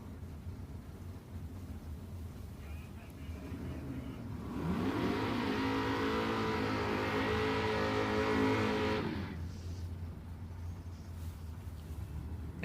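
A red Chevrolet bubble top race car at a twilight nationals qualifying meet revs hard for about five seconds, a loud, rising engine roar over steady background rumble, then drops away.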